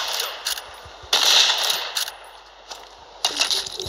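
Gunfire from a basic starter gun in a video game, heard as a few short bright bursts separated by brief pauses, close and fairly loud, with no talking.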